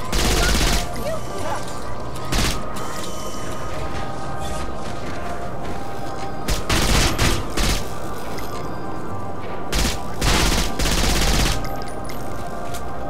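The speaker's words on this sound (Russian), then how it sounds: "Возьмем автоматические пушки и продолжим пальбу." Loud, continuous automatic gunfire in the video game Saints Row 4 rattles in dense bursts, with sharp louder shots and clanks punctuating the barrage.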